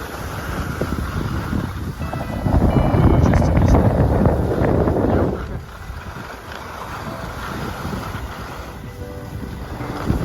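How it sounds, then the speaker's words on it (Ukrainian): Steady wind roars and buffets against the microphone on a ski slope in the Tatra Mountains, swelling louder for a few seconds before easing back to a constant rush. "Вітер є."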